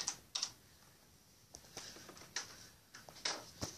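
Quiet, irregular clicks of typing on a computer keyboard come in short bursts of keystrokes, close and soft, with no other sound.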